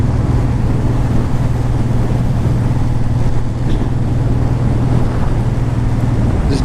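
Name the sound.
Honda VTX 1800 motorcycle being ridden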